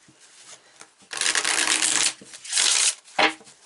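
A deck of tarot cards is shuffled close up in several quick riffling bursts, crisp and papery, separated by short quiet gaps.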